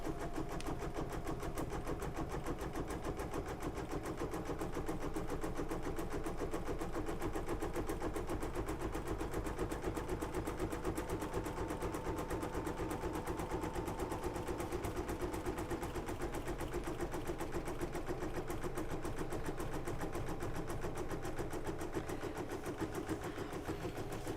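An embroidery machine stitches a Kimberbell bunny design in a fast, unbroken mechanical rattle that stays close and even for the whole stretch, with no talking.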